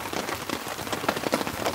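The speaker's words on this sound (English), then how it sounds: "the rain's coming down pretty heavy now" Heavy rain pours steadily onto a tent and surrounding bush at a wet campsite, a dense close patter of drops with no voices over it.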